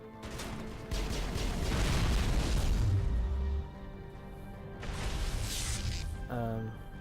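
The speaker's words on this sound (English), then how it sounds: "I hope that thing exploded on that fucker" Explosions in the Mass Effect video game: heavy booming blasts with crashing debris, a long rumbling burst followed by a second one a few seconds later, loud amid game combat noise.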